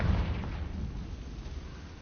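A Confringo blasting spell in Hogwarts Legacy bursts with a heavy, rumbling explosion that opens loud and slowly fades, echoing through an Acromantula cave.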